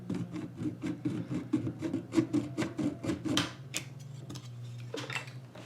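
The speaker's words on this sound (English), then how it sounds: "I like to cut through that solder with a little thin Japanese saw that cuts on a reverse pull." A thin Japanese pull saw cuts through solder on a guitar pickup cover with a quick run of short, rhythmic rasping strokes up close, then slows to a few scattered scrapes at a moderate level.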